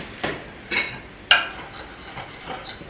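A spoon scrapes and clinks against a bowl as plum pudding batter with cinnamon, nutmeg and other seasonings is stirred, giving a few sharp separate taps and scrapes close by with quiet gaps between them.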